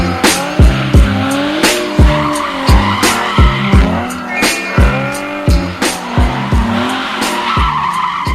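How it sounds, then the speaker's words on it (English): A Nissan 370Z spins a donut, its tires squealing in repeated rhythmic bursts over a revving engine, loud and close, with the pulses going steadily through the whole clip. "I cannot believe I'm letting somebody do a donut in Brittany."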